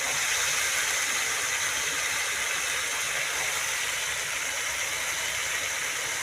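Dried fish sizzling in hot oil as ash gourd leaves go into the pan, a steady, dense frying hiss that runs evenly and fairly loud throughout with no voices.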